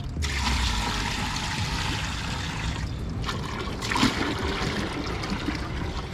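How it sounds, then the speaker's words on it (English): Water pours steadily into a fish tank of about 30 gallons, a continuous hissing, splashing flow with a brief gurgling swell midway and no talking. "While I'm filling up this water"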